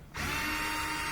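A power drill whirs steadily at close range, spinning out screws from the panel of a Whirlpool clothes dryer, a continuous high motor whine that starts abruptly and holds without any talk.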